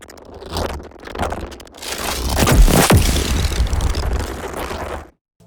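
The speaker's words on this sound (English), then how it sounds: "So altogether, the fire stuff sounds like this." Designed fire sound effects for a robot creature: a loud roaring, whooshing burst that swells to a peak, then a crunchy noisy tail that cuts off abruptly into silence.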